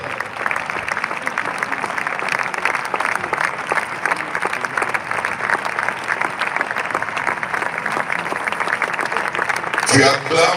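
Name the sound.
congregation applauding and cheering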